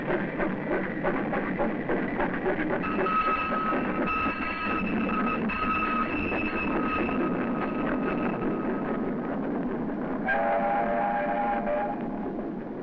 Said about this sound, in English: this old steam tram is a nostalgic reminder of days gone by